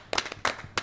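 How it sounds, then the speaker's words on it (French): A few scattered hand claps from a small group in a TV studio for a French motorsport show, three sharp close bursts spread over under a second. "On peut s'applaudir."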